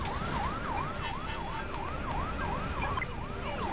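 Wailing ambulance siren from the video game Fire Commander cycles up and down in a steady rhythm, fairly quiet under a constant background wash.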